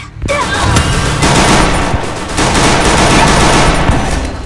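Dense video-game gunfire fills a 4v4 shooter match, loud sustained bursts of rapid shots and fusillades running nearly continuously with little pause, no talk over it.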